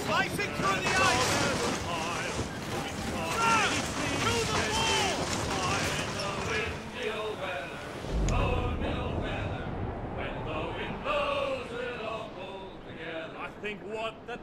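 A sailing ship in Assassin's Creed Rogue cuts through icy seas in stormy weather, with rushing water, waves and wind running steadily throughout while someone talks loudly over it.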